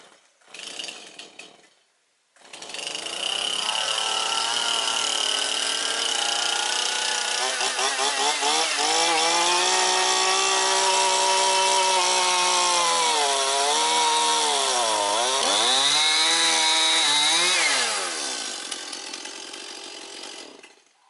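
A Woodstar SW41 log saw chainsaw starts, idles briefly, then runs loud and steady for a long cut, the engine pitch dipping and rising as it bites into the wood.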